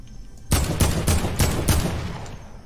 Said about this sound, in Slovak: To jak pomaly strieľa akačko?